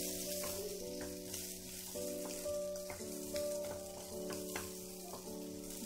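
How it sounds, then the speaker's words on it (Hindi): Onions lightly frying in a pan for a suji kachori filling, giving a steady soft sizzle with faint crackles and occasional stirring clicks, quiet and continuous with no talk. "प्याज को थोड़ा सा भून लेंगे हम।"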